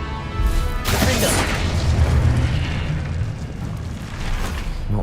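A Confringo blasting spell goes off in Hogwarts Legacy. It makes a heavy booming explosion with a sharp burst near the start, then a long rumbling roar that fades slowly.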